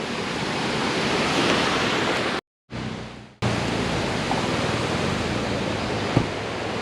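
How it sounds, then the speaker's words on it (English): Bald River Falls in Tennessee rushes as a dense, steady roar of falling water heard from the top of the falls, broken once by a brief dropout before the continuous wash returns. "So I am up here at the top of Bald River Falls."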